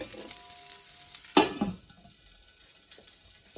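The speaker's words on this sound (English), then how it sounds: "I'm going to put the lid on this and cook that onion" Onion cooking in a lidded pan for a Thai curry, starting with a sharp clatter as the lid goes on, then a steady muffled sizzle settling into a quiet, even hiss.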